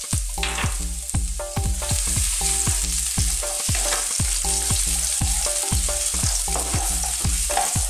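Ginger and garlic frying in corn or vegetable oil in a pan, a steady loud sizzle with rhythmic stirring scrapes throughout, no voices.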